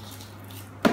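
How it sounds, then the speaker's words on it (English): A chocolate surprise egg is cracked open by hand, a single short crunch-and-snap near the end of an otherwise quiet moment with a low steady hum underneath. "Let's break it and put it aside here."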